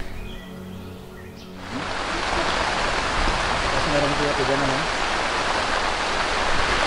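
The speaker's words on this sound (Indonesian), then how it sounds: "Akhirnya kita kena hujan" Steady heavy rain pours down, a dense constant hiss that swells in after a quieter opening and stays loud throughout.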